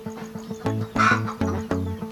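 Several chickens cluck in short, repeated bursts, fairly close and steady, with a louder squawk-like call in the middle.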